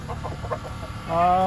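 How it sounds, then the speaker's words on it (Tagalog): Backyard chickens cluck in short, close bursts after a rainfall, a few quick calls followed by a louder, drawn-out squawk at the end. "Yan ang ating mga manok."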